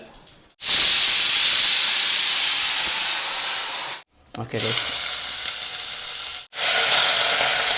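Chopped cabbage hits a hot pan with mustard seeds, setting off a loud, close, continuous hiss and sizzle that cuts out twice and starts again; a voice speaks briefly at the start.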